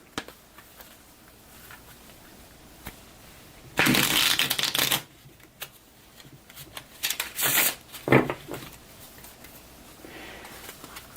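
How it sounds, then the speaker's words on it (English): A giant stack of unsleeved fast-action cards from a hockey board game being lightly shuffled, with two dense riffling bursts followed by scattered softer card flicks, close and alone. "we're going to lightly shuffle this giant stack of fast action"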